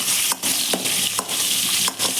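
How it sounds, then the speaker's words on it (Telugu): Curry leaves crackle in hot tempering oil with mustard seeds and cumin for a curry leaf chutney. A dense, loud sizzle is broken by several sharp spluttering pops spaced through the sound. "కొద్దిగా కరివేపాకు, తీసి దాంట్లోకి వేసుకుంటాం."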